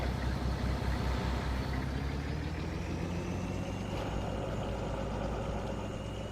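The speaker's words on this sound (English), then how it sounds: "The sound is a little goofy on this truck when you're in cab." Pickup truck engine heard from inside the cab while driving, a steady low rumble and drone with road noise, continuous and fairly loud with no talking.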